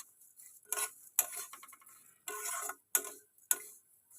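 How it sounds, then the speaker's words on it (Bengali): Vermicelli stirred and fried in ghee over a low flame, heard as a few short, sharp scraping and clinking strokes of a utensil against the pan, separated by brief pauses. "জাস্ট পাঁচ মিনিট ঘি দিয়ে এটাকে আমরা ভেজে নেব"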